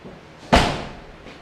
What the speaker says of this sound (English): Now let's see how the door shuts.